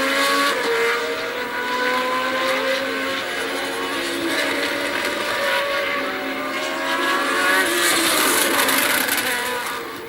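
Nelson Piquet's Formula 1 race car lapping the 1981 Argentine Grand Prix in Buenos Aires, its engine screaming continuously at high revs with rising and falling pitch through gear changes, loud and sustained throughout, no talking.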